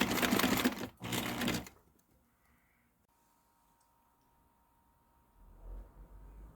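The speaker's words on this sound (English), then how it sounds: "the sewing on the sail is done" A sewing machine clamped to a table stitches sailcloth during a sail repair, giving two loud, dense mechanical bursts of stitching with a short break between them, then falling quiet apart from faint low rumbling.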